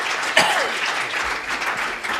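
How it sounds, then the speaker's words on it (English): A conference audience applauds the crowdfunding panel with steady, dense clapping that holds evenly throughout, with a faint voice briefly heard near the start. "let's give the panels a round of applause"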